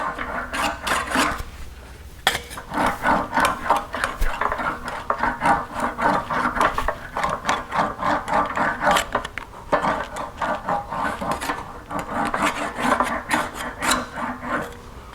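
Sheet metal is rolled back and forth through an English wheel to form a reverse curve. A steady, rhythmic rasping rumble keeps repeating in close passes, with only brief pauses.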